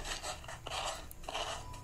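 Hand sanding of a patched hole with sandpaper, a steady close-up rasping scrape in repeated strokes with brief pauses between passes, no talking.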